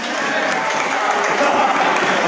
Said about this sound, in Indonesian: Masih tepuk tangan masih.